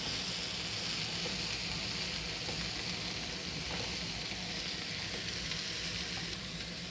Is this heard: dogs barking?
no